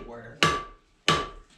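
A blacksmith's hammer strikes hot metal to flatten leaf lobes, two sharp ringing blows about two-thirds of a second apart, close and clear, each with a brief metallic ring fading out.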